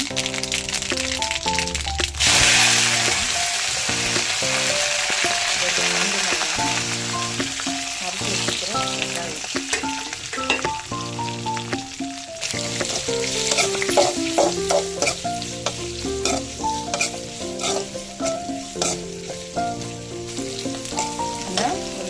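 Spices tempering in hot oil for a green gram sambar, a loud crackling sizzle that keeps going under stirring scrapes and clinks, with faint background music and no talk.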